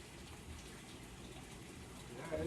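Water flushes through the tap of an aquarium swirl filter as a steady, quiet rushing gush, constant throughout with no talking.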